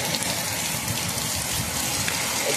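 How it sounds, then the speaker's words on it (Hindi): Rain falls steadily outside during the monsoon, a dense, continuous hiss and patter that stays even and fairly loud throughout, with no voices. "बारिश हो रही है"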